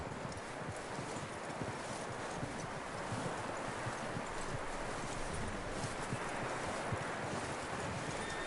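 Steady clip-clop of horse hooves in Red Dead Redemption 2, a continuous rhythmic trot over wind and outdoor ambience, fairly close and consistent throughout.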